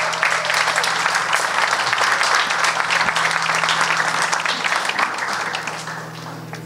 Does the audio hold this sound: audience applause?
yes